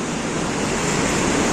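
Water rushes out from a dam among mountains, a steady, loud roar of broad hiss that holds unbroken throughout and carries no speech.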